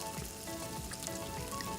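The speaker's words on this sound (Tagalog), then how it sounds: "kung napapansin nyo po, kumukulo na siya" A pot of bopis (Filipino stew) with vinegar bubbles and simmers steadily, with a soft continuous crackle and hiss and no talking.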